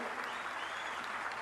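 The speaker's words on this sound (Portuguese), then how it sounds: "pedir uma forte salva de palmas a toda a equipe do Ministério da Saúde" A crowd at a public event applauds the Ministry of Health team, with a continuous even wash of clapping that sounds somewhat distant and faint.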